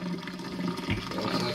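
Water drains through a colander in a kitchen, a short close burst of splashing, gurgling liquid with no talk.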